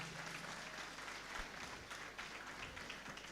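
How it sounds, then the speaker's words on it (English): Applause for students at an Independence Day event at Whitefield Global School, a soft, continuous spread of clapping with a low hum beneath, heard for a few seconds. "I request all the audience to give each one of them a hearty applause for"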